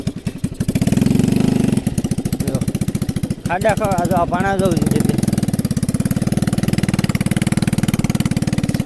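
An overloaded mini tractor's engine chugs loudly and rhythmically nearby as it crawls along a poor road, with a brief dip in the throb. Someone talks over it.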